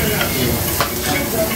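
Chicken inasal sizzles loudly and steadily on the grill, a dense close hiss with faint crackles and no voices.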